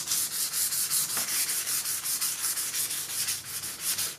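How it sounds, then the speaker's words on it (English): Fine P800 grit sandpaper rubs lightly along a tube in quick, even back-and-forth strokes, a soft rhythmic hiss close by and alone without talking. "I'm just gonna go over this once more, just lightly with the smoother sandpaper"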